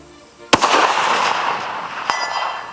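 A single sharp rifle shot fired at a target 400 yards away, a loud crack followed by a lingering rolling echo, then a fainter distant report about a second and a half later.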